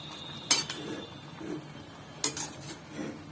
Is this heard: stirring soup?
yes